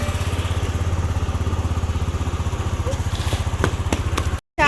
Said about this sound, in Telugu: స్కూటీ పైన ఎక్కుద్దాం.